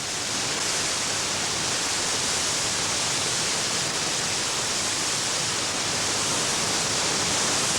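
Water overflowing a large masonry reservoir dam roars as a dense, continuous rushing wash, loud and unbroken from start to finish with no voices.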